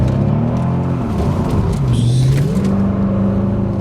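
Supercharged Mercedes CL55 AMG accelerating hard with the inner wheel spinning, a loud, close engine note rising and dipping steadily with a whirring edge throughout.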